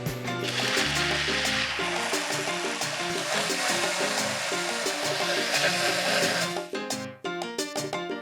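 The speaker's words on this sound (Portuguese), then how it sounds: "Agora tem que bater até ficar uma mistura bem lisinha." An electric blender whirs steadily for about seven seconds, beating carrot cake batter until smooth, with music playing underneath; the motor then cuts off, leaving brief clattering and the music.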